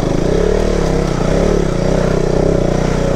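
A motorcycle engine runs loud and close on an off-road hill trail on Chandragiri Hill, a steady throbbing idle with small surges of revving as the bike is pushed through.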